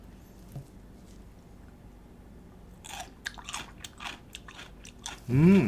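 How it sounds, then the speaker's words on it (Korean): Crisp, wet crunching of a salt-cured, seasoned cucumber salad being chewed close to the mic, several bites in an irregular rhythm after a quiet stretch, ending with a short hummed voice. "맛있다 아삭아삭해요 아까 소금 간으로 절여주니까 오이가 더 아삭아삭해졌어"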